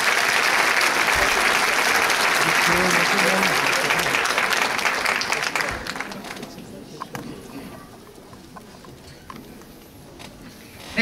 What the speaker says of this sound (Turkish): değerli saz sanatçısı arkadaşlarımızı güçlü bir alkışla sahneye davet edelim